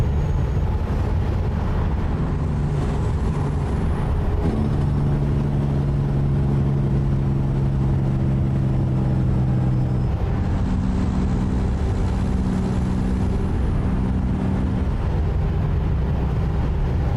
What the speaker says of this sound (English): There's a lot of traffic out.